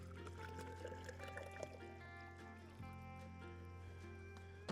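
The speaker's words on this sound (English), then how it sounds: "we're gonna fill up our bottles" Water pours steadily from a gallon jug into bottles on a mountain hiking trail, a continuous gurgling trickle with a low background hum and a few small clunks.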